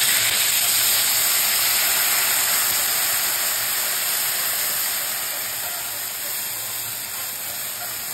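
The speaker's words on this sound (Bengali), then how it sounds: "আমি জল ঢেলে দিচ্ছি।" Water hits a hot pan of tomato and spices for a Bengali bata fish curry, raising a loud, steady steaming hiss that slowly fades over several seconds, with no one speaking.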